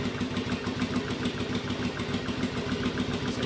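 A Yamaha Virago cafe racer motorcycle engine runs steadily nearby, a rough, throbbing idle with a constant low pulse and no talking over it.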